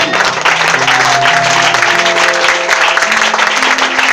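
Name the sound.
congregation applauding in church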